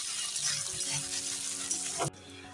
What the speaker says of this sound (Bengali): দিয়ে ভালো করে আমি নেড়ে চেড়ে নিচ্ছি